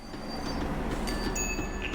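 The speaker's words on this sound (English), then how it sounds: "The tram was slowing down, and I'd only just gotten on board." A tram slowing down in the video game Max Payne 3, its heavy rumble carrying steady rolling noise with thin metallic squeals rising over it, close and continuous.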